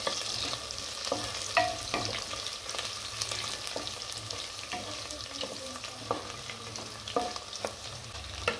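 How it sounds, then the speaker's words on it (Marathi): Onions frying in a pan for sambar, browning with green chillies, a continuous close sizzle broken by repeated clicks and scrapes of stirring, no voices. "कांदा चांगला लालसर होईपर्यंत भाजून घेऊ"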